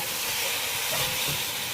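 Chicken pieces fry in a pan over the fire, giving a steady, even sizzling hiss that carries on unbroken with no talk.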